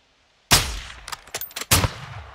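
Gunfire in the Call of Duty: Modern Warfare II (2022) campaign: one sharp loud shot, then a quick cluster of shorter cracks, then another heavy blast, all close and punchy against near silence.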